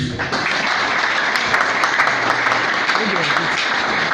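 A seated audience of civil society representatives and association leaders at a gathering in Gombe applauds, a dense, even clatter of many hands that holds at close range the whole time, with voices faintly underneath.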